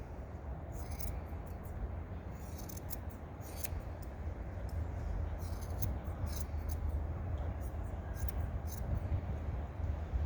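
Scissors snip steadily at the long ear fur of a Newfoundland dog during a head trim, a soft continuous crisp cutting texture close up with no talking.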